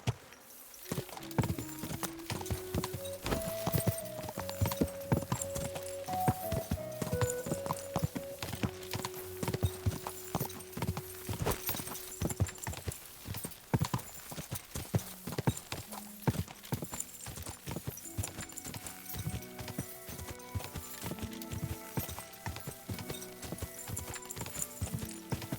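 Hoofbeats of a horse at a gallop in Kingdom Come: Deliverance II, a steady rapid clip-clop that runs the whole time, with a neigh or whinny and a musical score playing underneath.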